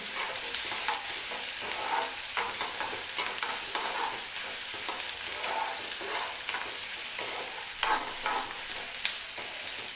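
Onion and tomato frying in a pan for chutney, a continuous dense sizzle with scraping stirring strokes, close and steady without any talk.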